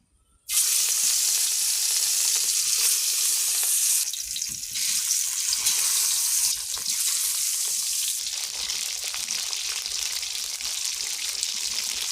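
Fish rubbed with salt and turmeric dropped into hot oil in a wok, bursting into a loud, steady sizzle after a brief quiet start and crackling on continuously close by.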